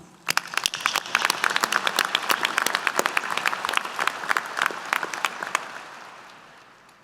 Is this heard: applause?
yes